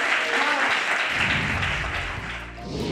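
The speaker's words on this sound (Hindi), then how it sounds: "दोनों हाथ उठाओ और एक बार जोरदार तालियां बजा के बताओ" A poetry recital audience bursts into loud, sustained applause, dense clapping that carries on steadily for the whole stretch.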